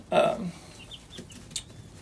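Buff Orpington and Welsummer mix chickens cluck nearby, one loud burst at the start followed by a few soft, scattered clucks and chirps.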